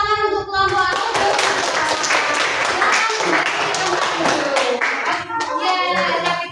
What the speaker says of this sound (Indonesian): tepuk tangan untuk kelompok audio.